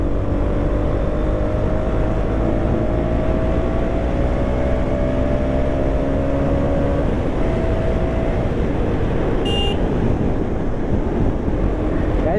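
A 2023 KTM Duke 200 motorcycle engine at full speed on a road in Dehradun, a steady loud drone with rising tones as it holds high revs, mixed with continuous wind rush.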